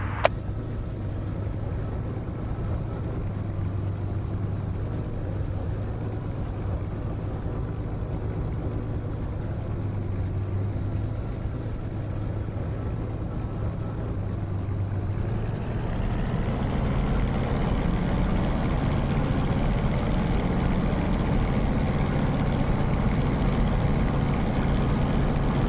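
Spitfire LF Mk IX piston engine in DCS World spooling up for takeoff down the runway, a steady loud drone with a low hum that swells and grows rougher as boost rises, alone with no talk.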